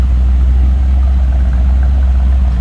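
A steady 1959 Ford Fairlane 500 Galaxie engine idles close by, a deep low rumble holding an even, unchanging note with no revving.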